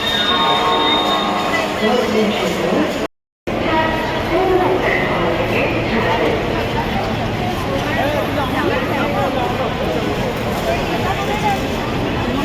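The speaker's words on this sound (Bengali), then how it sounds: "আমরা হাওড়া স্টেশনে আছি।" Busy ambience at Howrah railway station: a continuous rumble of trains and crowd babble, with a brief dropout early on, loud and close throughout.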